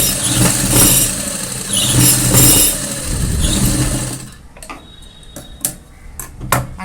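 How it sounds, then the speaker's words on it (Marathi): Sewing machine stitching a double-folded pajama fabric seam, a loud steady mechanical whir for about four seconds, then stopping into quieter ticks and small clicks as the cloth is handled. "ह्याच्यावरून आता मी शिलाई मारते"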